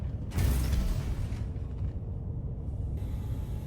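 Gunner turret of the RSI Perseus ship in the Star Citizen video game moving around, with close mechanical creaking, ratcheting and gear whirring, a loud burst at first and then lower grinding motion.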